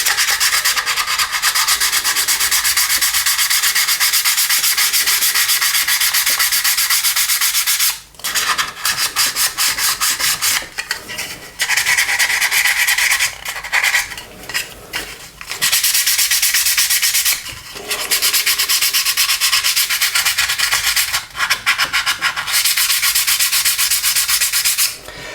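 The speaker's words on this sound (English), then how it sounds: "And then finally I use sanding pad." Parts of an Airfix Handley Page Hampden plastic model kit are worked with a sanding pad, giving loud, raspy back-and-forth rubbing strokes that run almost continuously, broken by a few short pauses.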